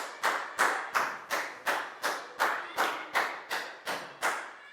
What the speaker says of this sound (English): High five, big round of applause for Bangpon,